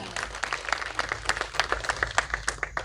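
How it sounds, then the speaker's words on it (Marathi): Applause at a village women's group event in Nira: a small crowd claps in quick, uneven bursts for about three seconds, fairly close, over a low background hum. "ज्यांनी ह्या भरवल्या त्यांच्यासाठी एकदा जोरदार टाळ्या"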